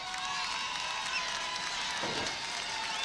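Spectators at a 2003 high school football game between Caledonia and South Christian cheer in a steady, fairly distant crowd roar that holds level throughout, with a brief swell near the end.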